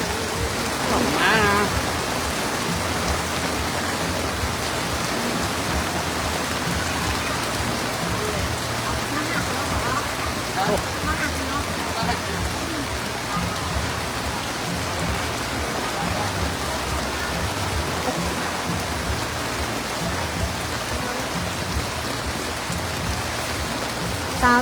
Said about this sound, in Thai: ตอนนี้ฝนก็ยังตกอยู่เจ้าทุกท่านเจ้า